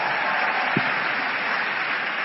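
Dense, steady applause from an audience at a motivational seminar in Indonesia, many hands clapping loudly and continuously throughout without a break, with no speech over it.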